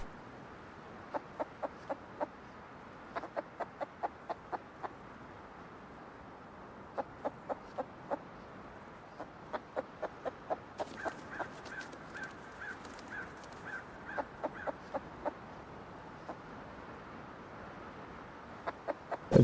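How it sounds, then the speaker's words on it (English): A chicken in the video game Rust makes faint, clipped clucks in short rapid clusters, repeating irregularly over a quiet background. "That chicken sounds like it's scraping something."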